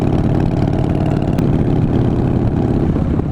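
A Harley Softail with a 98-inch big bore engine, ported heads and a 510 cam runs close up with a loud, steady, deep rumbling engine note and no pauses.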